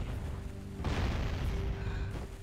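A cannon shot bursts in the Jak and Daxter game on Sentinel Beach: a single heavy boom that lands about a second in and rumbles on as a broad roar, with game music and ambience carrying underneath.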